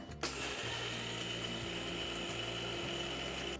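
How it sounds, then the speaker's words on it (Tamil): A kitchen mixer grinder starts up and runs grinding black urad dal, rice and cardamom, a loud steady motor whine with a rough rattling churn that continues evenly for a few seconds. "நல்லா நைஸாக அரைச்சி எடுக்கணும் நான் அரைச்சிட்டு காட்டுறேன்"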